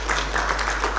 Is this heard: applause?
yes